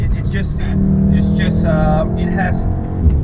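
A Volkswagen Golf R MK7 hot hatch engine in race mode climbing a mountain road, a steady droning hum heard from inside the car under people talking.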